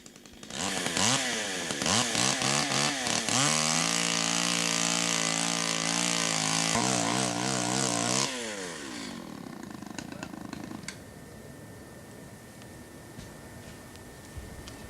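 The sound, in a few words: chainsaw cutting down a tree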